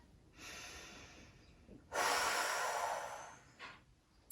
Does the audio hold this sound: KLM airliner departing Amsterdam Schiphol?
no